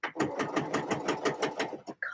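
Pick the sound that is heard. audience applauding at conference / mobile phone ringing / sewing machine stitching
sewing machine stitching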